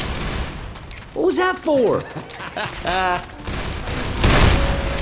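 Gunfire in a zombie shooter video game, rapid bursts of shots and booming thuds mixed with shouted voices, with louder rattling fire near the end.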